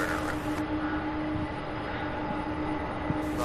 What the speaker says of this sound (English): What an awesome takeoff